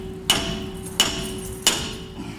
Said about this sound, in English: some good old-fashioned whacking